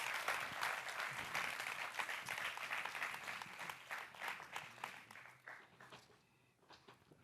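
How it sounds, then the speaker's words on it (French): Sustained applause from a seminar audience, dense and steady for several seconds before thinning out and fading toward the end. "Tonnerre d'applaudissements pour elle, s'il vous plaît."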